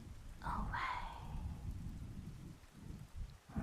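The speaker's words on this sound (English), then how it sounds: "like the rain drifts away now" Rain falls steadily on a rainy botanical walk, a soft continuous patter that stays close and even, with a brief brighter swell near the start.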